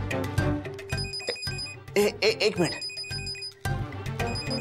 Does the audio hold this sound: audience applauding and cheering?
no